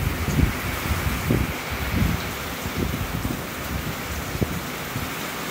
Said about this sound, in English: that's one of the most impressive storms I've been in a long time